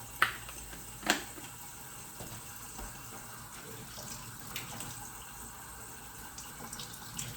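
Water runs steadily from a kitchen tap while someone warms it to make spaghetti. The faint continuous flow is broken by two sharp clatters near the start, with no voices over it.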